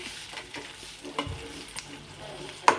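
An egg fries in a pan with soft, crackling sizzle and scattered scraping stirs of a utensil, quiet overall with a sharper clatter at the end, in a home kitchen during a Sankranti holiday meal.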